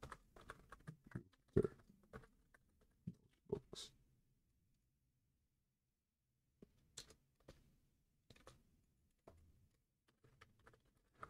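Keystrokes on a computer keyboard while writing Python notebook notes, in quiet bursts of clicks with a long silent pause mid-way, close and fairly faint.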